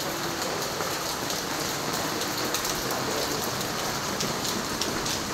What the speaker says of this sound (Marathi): आणि बघू शकताय पाऊस तर थांबायचं नावच घेत नाही सुरतमध्ये।